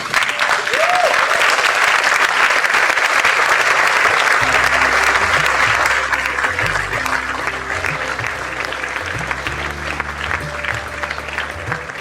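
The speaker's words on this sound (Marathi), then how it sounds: "तुम्ही सगळे उभे राहून सरांना स्टँडिंग ओवेशन दिलं" An audience at a theatre awards event gives a standing ovation, with loud sustained clapping filling the hall while music starts softly underneath.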